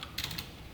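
A brief, quiet flurry of a few keystrokes on a computer keyboard, close and alone.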